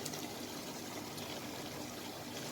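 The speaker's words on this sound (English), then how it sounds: "I'll add some water here" Water pours steadily into a pot, a soft continuous trickling splash heard close by and fairly quietly.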